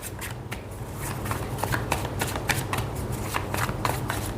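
Tarot cards riffle and slap in rapid bursts as a deck is shuffled up close, a dense run of papery flutters and snaps with no talking.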